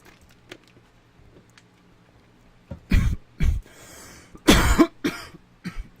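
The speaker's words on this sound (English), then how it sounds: "Sorry, cough button." Several harsh coughs burst out close to the microphone in an indoor room, coming in quick separate fits after a stretch of near silence with faint background clicks.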